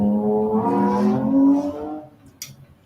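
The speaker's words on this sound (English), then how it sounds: "Yes, your car makes noise." A car engine revs and whirs nearby for a couple of seconds, loud and rising before fading away, with no talking over it.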